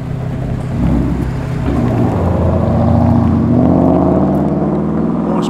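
A V8 street muscle car burbles as it rolls out of a car show, a deep, loping rumble close by that swells slightly and holds steady.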